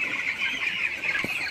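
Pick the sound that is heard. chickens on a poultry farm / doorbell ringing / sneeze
chickens on a poultry farm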